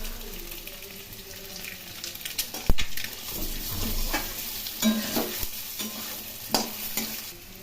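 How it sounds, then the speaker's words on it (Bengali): Cumin seeds and peeled boiled potatoes frying in hot oil, with a continuous crackling sizzle and several sharp stirring clanks, close and fairly loud, with no voices. "আমি জিরে ফোড়ন দেবো"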